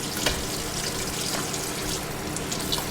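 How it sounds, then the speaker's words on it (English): Pork chops are rinsed under running tap water, which makes a steady, close hiss of water in a sink with faint splashes and no talking. "Giving them a nice little rinse."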